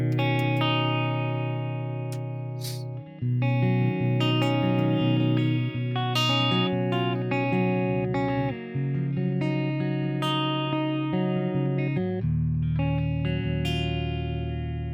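A clean electric guitar tone from a Quad Cortex preset with a touch of hall reverb plays a sustained chordal passage. The notes ring out with soft decay, and no voice is heard.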